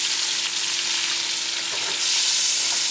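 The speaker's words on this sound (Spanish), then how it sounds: "Que se dore un poquito, y a la misma vez le vamos a agregar la cebolla" Garlic, onion and bay leaf frying in a pan, making a loud, dense and continuous sizzle with faint stirring scrapes mixed in, heard up close with no voices.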